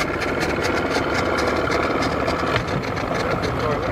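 A bass boat engine drones steadily nearby with a rapid, buzzing mechanical pulse. The sound stays loud and even throughout, with no voices.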